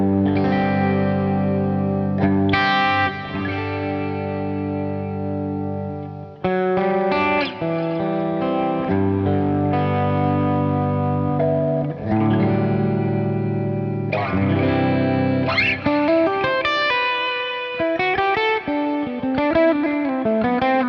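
Electric guitar, ES-335 style, played through a Helix Native Glassy Plexi amp preset, distorted tone, sustained chords and melodic lines ringing with chorus and reverb, loud and continuous with no talking.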